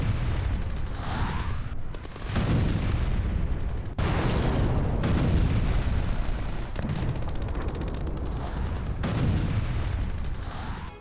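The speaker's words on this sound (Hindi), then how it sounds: "देखिए, ऑयल रिजर्व में विस्फोट।" Explosions at a burning oil reserve in Tehran sound as loud, repeated booms and cracking blasts over a constant dense roar, with several sharp bursts spaced a few seconds apart.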